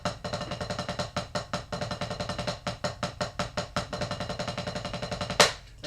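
Drumming exercise played on a drum, shifting from single strokes to double strokes in eighth and sixteenth notes: a steady, even stream of sharp, close hits with a regular rhythm, ending with a brief louder crash-like burst, no talk.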